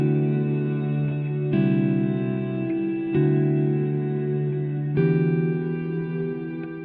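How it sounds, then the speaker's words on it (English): An electric guitar through a Strymon BigSky reverb pedal set with long pre-delay strums sustained chords, four strikes in sequence, each ringing out as a washy reverb tail swells in after the attack; no talk. "you can hear the pre-delay is really working because I'm playing the chord and only then does the reverb kick in"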